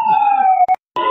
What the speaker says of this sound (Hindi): एम्बुलेंस मौके पहुंच चुकी है।